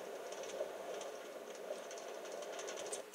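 Minecart rolling along rails in Minecraft, a continuous rattling, clattering hum with light rhythmic clicks, steady and fairly faint throughout with no talking.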